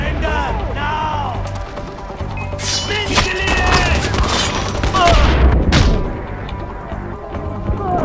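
Gunfire and impacts in the video game Far Cry 4, loud bursts and crashes layered over game music, shouting voices and effects, dense and continuous throughout.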